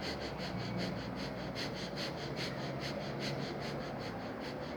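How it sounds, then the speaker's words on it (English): Fast-paced, shallow breathing in a breathing exercise, quick, even, rhythmic breaths of about two per second, close and airy, steady throughout with no talking. "It's a fast-paced, shallow breath"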